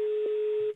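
A telephone tone sounds while a mobile phone is being called: one steady, clear tone held for about three quarters of a second, then cut off, leaving faint line noise.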